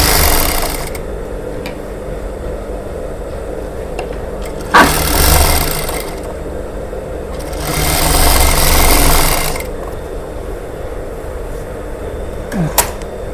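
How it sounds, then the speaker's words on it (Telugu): A tailor's sewing machine stitches a plain blouse. Two close, loud whirring bursts of stitching run a couple of seconds each, separated and followed by quieter pauses with faint handling sounds. "రెండు సమానంగా పట్టుకొని కుట్టు వేసుకోవాలి."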